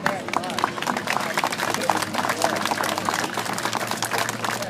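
A fair audience claps for a grizzly bear show, with steady applause and crowd noise running the whole way through at moderate distance, mixed with a low hum.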